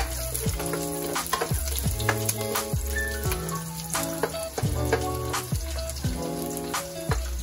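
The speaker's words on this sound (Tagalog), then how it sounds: "At syempre, ang bawang naman ang aking isusunod." Garlic frying in a pan, a close steady sizzle with repeated rhythmic clinks and scrapes of stirring throughout.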